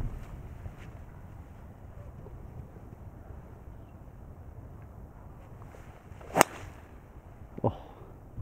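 A golf driver strikes the ball off the tee on a windy links course at St Enodoc, giving one sharp, crisp crack amid steady wind noise, followed by a second fainter click.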